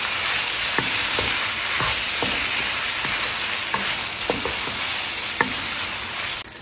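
Pad See Ew noodles stir-fried with sauce in a hot pan, a constant loud sizzle broken by repeated scraping and tossing strokes of a spatula every half second or so, with no voices.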